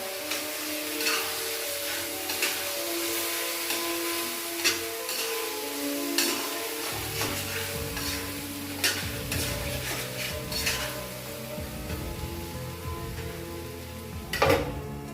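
Katla fish gravy is stirred in a kadai over medium heat, with continuous sizzling and frying under repeated scraping strokes of a spoon against the pan, close and steady.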